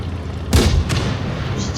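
A tank cannon fires once in World of Tanks Blitz, a sudden loud boom with a short crack that trails into a rumbling decay, followed by a fainter second report.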